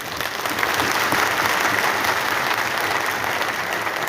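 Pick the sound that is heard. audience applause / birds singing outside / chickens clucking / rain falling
audience applause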